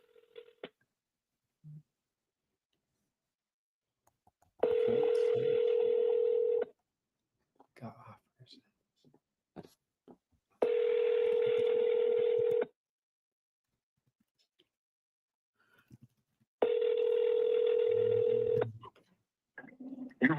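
A phone call is placed: quick dialing tones, then three long ringback tones spaced a few seconds apart, with someone talking softly in the gaps.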